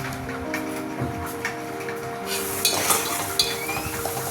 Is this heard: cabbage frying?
yes